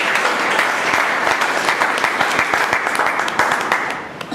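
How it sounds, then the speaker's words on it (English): An audience applauds steadily with dense, continuous hand clapping that fades slightly toward the end. "Let us give Bhavna a great applause"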